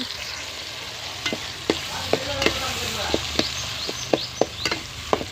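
Onions fry in a pan, a steady sizzle under repeated sharp scrapes and taps of a spoon stirring them, close up, with no speech.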